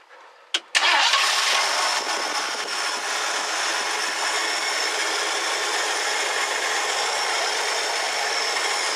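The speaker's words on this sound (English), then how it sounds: "I'm basically just going to start it up and see if it goes into gear" The engine of a 1969 Ford Econoline van cranks and catches after a quick click, then settles into a loud, steady idle close by, with no voices.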